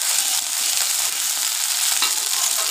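Grated ginger and green chilli fry with cumin in a pan, giving off a continuous bright, close sizzle with faint crackles and no voices.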